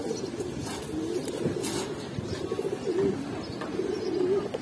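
Close, continuous low cooing from Giribaz pigeons rises and falls in soft repeated phrases with no voices present.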